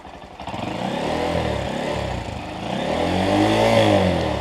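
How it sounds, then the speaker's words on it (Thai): A Honda Monkey or CT125 motorcycle engine revs up close, the single-cylinder note rising and falling through two long throttle blips, loud and steady with no talking. "ผมบิดให้ดูนะครับมีควันขาวไหม"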